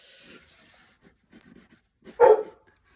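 A dog sounds off indoors with soft panting, then one loud, close bark near the end of a mostly quiet stretch.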